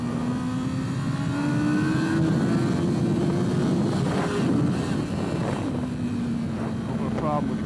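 Kawasaki race motorcycle on a racetrack, engine droning loudly and steadily with a sustained pitch that rises and dips as gears shift approaching a chicane, heard continuously with wind roar.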